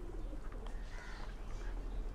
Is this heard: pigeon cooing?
yes